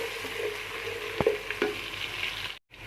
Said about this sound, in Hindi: 1 मिनट के लिए इसको फ्राई कर लेंगे हम